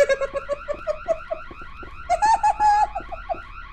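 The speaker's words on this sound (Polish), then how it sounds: "Ale czemu nie ma prądu, a jest alarm?" An alarm rings in the horror video game Boo Men: a loud electronic tone warbles in rapid repeating pulses, briefly rising in pitch and intensity partway through.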